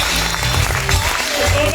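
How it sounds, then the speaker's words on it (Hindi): An audience at a business seminar claps along with music: a dense, continuous wash of applause blended with loud music throughout the short stretch. "म्यूजिक के साथ तालियां बजाइए"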